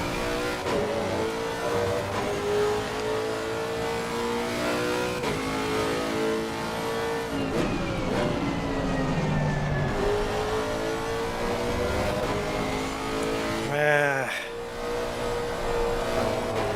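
Race car engine in the Assetto Corsa racing game, revving loud and steady with shifting harmonic tones, then the throttle abruptly lifts near the end with a brief crackling drop before the engine note returns.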